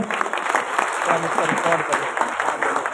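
A gathering at a Ravidas Jayanti event breaks into thunderous applause to welcome a speaker, dense continuous clapping with a few voices audible underneath.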